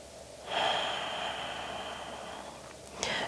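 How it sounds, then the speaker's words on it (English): Slow, steady breath drawn in and released during a held yoga pose, a long airy hiss lasting over two seconds, close and fairly quiet, followed by a brief second breath. "One more breath here."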